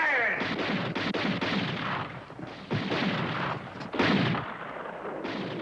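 Artillery guns fire repeatedly in a war film, a string of heavy booming blasts and rumbling gunfire that fills the scene with dense, continuous noise.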